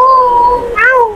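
A cat gives a single clear meow, close and loud, with a rising then falling pitch and a brief upward inflection near the end.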